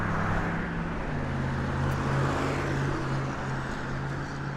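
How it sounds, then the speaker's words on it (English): American Airlines Boeing 737 airliner at Las Vegas Harry Reid International Airport, a steady broad engine roar with a low droning hum holding at moderate distance, fairly constant throughout with no voices. "And this is gonna be American Airlines flight AAL 2447 headed to Chicago ORD."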